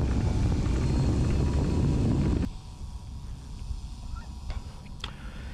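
A radio-controlled trainer airplane taxis on the ground, its motor droning loud and close at first, then dropping to a quieter, steady hum partway through.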